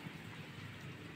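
Steady rain falls outdoors near a motorcycle whose carburetor has no cover, a constant hiss of drops without a break and no voices.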